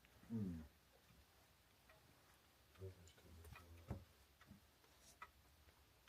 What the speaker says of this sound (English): Now I hear a clock